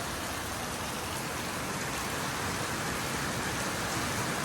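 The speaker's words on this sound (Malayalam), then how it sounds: "ഇപ്പം നല്ല മഴയാണ് കേട്ടോ ഇവിടെ" Heavy rain pours down in a dense, steady hiss that does not let up, with no voices, during a storm in Africa.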